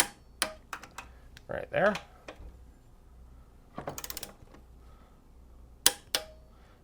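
A torque wrench clicks sharply on the rear brake caliper bolts of a Harley-Davidson M8 Softail Low Rider ST, giving scattered single clicks and a quick cluster of them, close and crisp, with someone talking briefly.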